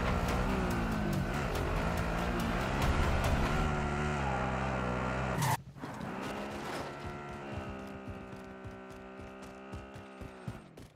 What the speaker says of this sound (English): Okay, I am driving.